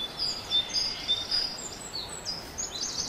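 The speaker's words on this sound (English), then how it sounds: "the birds chirping and the flow of the river just below us" Birds chirp and twitter in short high calls over a steady broadband wash of a river flowing just below, in the Samburu area of northern Kenya near Buffalo Springs; the calls are faint and scattered while the water noise is continuous.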